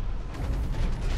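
Grenade blast from a Raider medium mech in the video game Hawken, a short, heavy, low rumbling boom that fills about a second at steady loudness, without speech.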